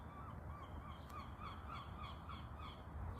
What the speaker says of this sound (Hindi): कौवा कह रहा है हाँ जी हाँ, मुझे नज़र आ रहे हैं।